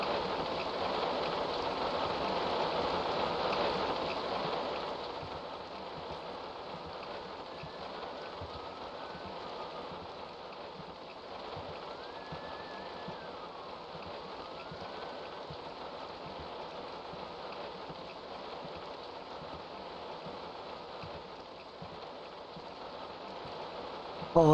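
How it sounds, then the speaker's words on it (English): Rain patters against windows in the horror video game White Day, a steady wash of drops that is louder for the first few seconds and then settles into a softer, constant hiss. "At least the rain on the windows sound nice."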